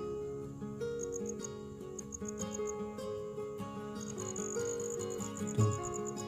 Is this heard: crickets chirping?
yes